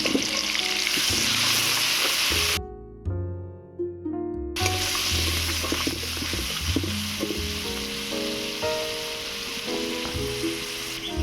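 An onion, green chili and coriander paste fries in hot oil for a village-style duck egg malai curry. It gives a loud, continuous sizzle that briefly cuts out and then resumes, with a faint tonal hum underneath.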